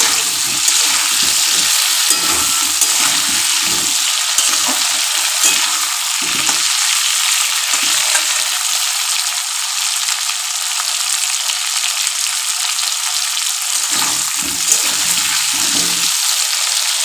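Potatoes with turmeric fry in hot oil for a chicken curry, producing a loud, continuous hiss and crackle, with intermittent stirring scrapes and clatter in the pan.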